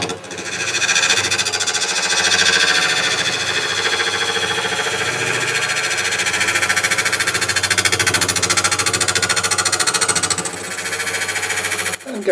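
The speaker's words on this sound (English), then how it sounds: "then migrated to using a square carbide to trim the bottom" Wood lathe spinning a walnut bowl while a square carbide tool trims the bottom, a loud, steady, close rattling scrape that holds for most of the span and drops off just before the end.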